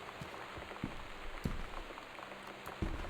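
Rain falls steadily in the video game Gone Home, a soft, faint patter with scattered louder drips and taps over the hiss.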